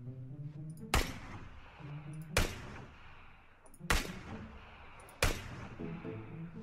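Gunshots from the battle royale video game PUBG: four loud, sharp single shots spaced over a few seconds, standing out over a steady game background with a low hum.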